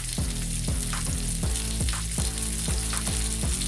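Steady, loud sizzling of pork frying in a pan, with repeated stirring or scraping strokes in a regular rhythm throughout.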